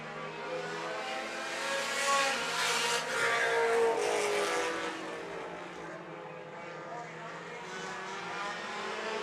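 Race cars at the Dean Smith Memorial tearing around the track, engines swelling loud as they pass and fading again, with commentators talking over the roar.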